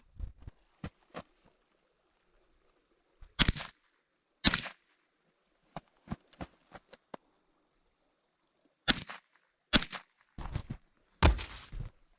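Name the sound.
9mm handgun shots being fired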